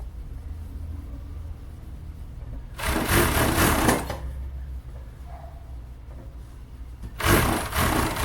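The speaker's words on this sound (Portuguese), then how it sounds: "sempre deixar a máquina levar o seu tecido" An overlock sewing machine stitches the side seam of a plus-size swimsuit, running in two loud, close bursts of rapid whirring, about a second each, separated by a quieter low hum.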